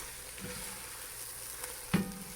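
Onions slowly caramelizing in a pan for French onion soup, a faint, steady sizzle with a couple of brief stirring clanks, no talking.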